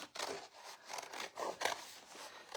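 Scissors cut a paper word out for a mixed media collage, a series of quiet, close snips and crisp paper rustles in an irregular rhythm.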